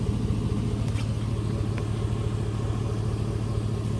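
Tuned-up truck engine idling close by, a steady low rumble with an even, smooth pulse that holds throughout without revving or talk.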